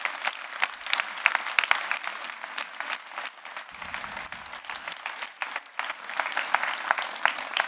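An audience applauds after a mayor's New Year address in a town hall setting, a steady crackle of many hands clapping at moderate volume that keeps going throughout with only brief dips.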